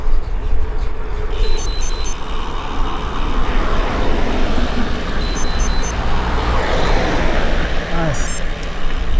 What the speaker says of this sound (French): Voilà l'exemple de la bagnole qui roule sur la piste cyclable.